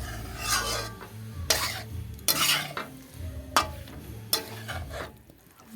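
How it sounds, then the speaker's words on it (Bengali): Cauliflower and potato with spices stirred in a pan, repeated scraping strokes of a utensil against metal over a low sizzle, loud and close, with no talk. "কপি আলুর মশলা দিয়ে একসাথে সব নেড়ে চেড়ে তারপর ঝুল দিয়ে দিলাম"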